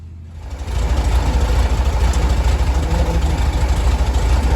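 A cold Corsa car engine idles after spark plugs were pulled for checking. It fades in quickly, then settles into a loud, close, low rumbling idle with a fast, even pulsing beat and no voices.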